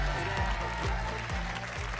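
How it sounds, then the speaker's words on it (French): Studio audience applauds contestant Élodie on a French TV game show, with brief clapping mixed with a swooping musical jingle. "Je voudrais qu'on applaudisse Élodie et son taïbo."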